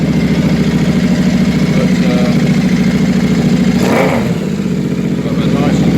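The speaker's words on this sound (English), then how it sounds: "got a nice and throaty there. It does sound, and the power that's coming out of there, it's quite impressive." A Royal Enfield 650 Interceptor motorcycle fitted with new silencers runs indoors with a loud, continuous throaty engine rumble, a brief rise around the middle, while someone speaks over it.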